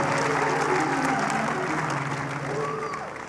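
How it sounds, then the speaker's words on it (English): A church congregation applauds Reverend Eastwood Anaba, dense continuous clapping that holds strong and then eases slightly toward the end, with faint voices underneath. "give a big round of applause to Reverend Eastwood"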